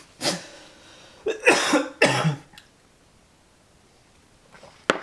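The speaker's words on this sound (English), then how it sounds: "having a little coughing fit" A man's coughing fit: three harsh, close coughs in quick succession, then a quiet pause and a faint throat noise with a sharp click at the end.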